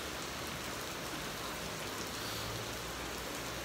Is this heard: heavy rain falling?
yes